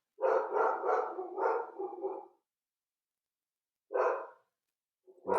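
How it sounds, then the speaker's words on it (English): A dog barks in the background, a burst of several rapid barks followed after a pause by one more short bark and the start of another, fairly close and alone with no talk. "Thanks for the loving dog here in the background"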